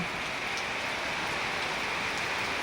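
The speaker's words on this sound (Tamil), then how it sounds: "கனமழை பெஞ்சிகிட்ருக்கு" Dense, steady monsoon downpour in Kariyapatti, Virudhunagar district, Tamil Nadu, hissing continuously, a heavy rain with no pauses and no voices.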